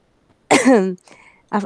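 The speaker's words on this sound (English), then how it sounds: "I'm coughing because I'm struggling with my breathing" A man coughs who is struggling with his breathing: one strong harsh throaty cough, a short pause, a softer rasp, then the start of another cough, all close to the microphone.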